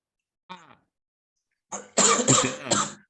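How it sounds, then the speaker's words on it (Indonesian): A short throat sound, then a burst of several harsh coughs in quick succession, close and fairly loud. "Batuk"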